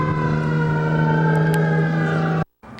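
A steady wailing siren holds a sustained tone, loud and close, then cuts out abruptly near the end, with only faint background after.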